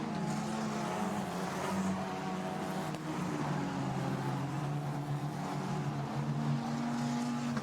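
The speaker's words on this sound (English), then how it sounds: "So there the cars head up through Blanchimont." Formula Renault Eurocup race cars at Spa-Francorchamps heading up through Blanchimont, a loud sustained engine roar with shifting pitch as several cars pass, no pauses.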